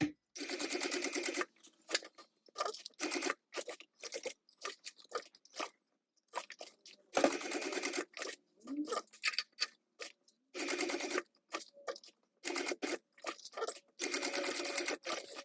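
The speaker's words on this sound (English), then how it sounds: "I'm going to stitch this down." Sewing machine stitching TPU down onto a bag, heard in close, rapid whirring bursts of stitching separated by short pauses, quiet overall and without speech.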